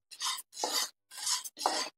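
Cumin seeds are stirred while dry-roasting in a pan, four short dry scraping rasps in a steady rhythm with brief silent gaps between strokes, close and clear with no talk.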